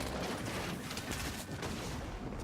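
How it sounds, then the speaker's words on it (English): Fortnite match gunfire and shockwave grenade blasts roar in a dense, continuous wall of overlapping shots and booms, loud and unbroken throughout. "Shockwave grenades are going off all over the place. You've got weapons firing."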